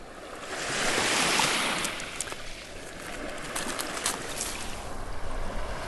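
Waves washing onto a rocky Lake Superior beach in the far western Upper Peninsula, a soft rolling wash that swells and recedes with some wind noise, moderately distant and fairly quiet, no talking.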